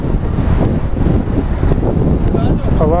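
Strong wind at a Goa beach buffets the microphone with heavy, continuous roaring gusts over faint surf, while voices speak nearby.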